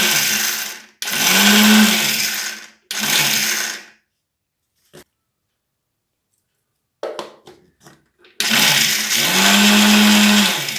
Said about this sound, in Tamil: எல்லா நிலக்கடலையும் நம்ம மிக்ஸி ஜாரில் போட்டு பொடி பண்ணிட்டோம்.